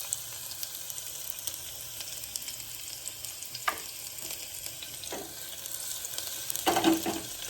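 Chopped onion sizzling in hot oil with cumin seeds in a home kitchen pan, a steady broadband frying hiss with a few brief clinks and stirring scrapes near the end.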